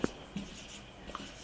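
Chalk or marker scratches briefly on a board during a chemistry lecture, a few short, faint strokes near the start and middle over quiet room tone.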